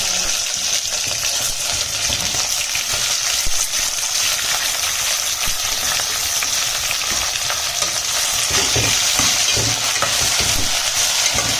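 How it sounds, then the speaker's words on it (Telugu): Vegetables fry in a pan for sambar while being stirred, giving a loud, steady sizzle with scraping stirs throughout and no talk. "అంతా అయిన తర్వాత నెక్స్ట్ ఈ వెజిటేబుల్స్ అన్నీ వేసుకోవాలి."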